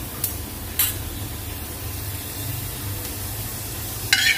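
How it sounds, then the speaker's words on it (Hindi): Continuous crackling sizzle of garlic, asafoetida, mustard seeds, fenugreek, cumin and curry leaves frying in hot oil, with a few sharp clinks of a utensil against the pan. "मेरा तड़का फ्राई हो रहा है"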